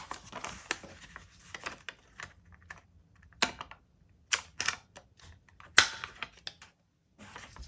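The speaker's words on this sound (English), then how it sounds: "I'm actually gonna corner round my lid as well." A handheld corner rounder punch bites through the corners of a paper lid with a few sharp, close clicks and snaps spaced irregularly, separated by quiet handling and shuffling of paper.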